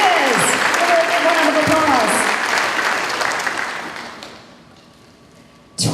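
Applause from a school district staff assembly for a 15-year service pin recipient, dense clapping with a voice over it that fades gradually and trails off near the end.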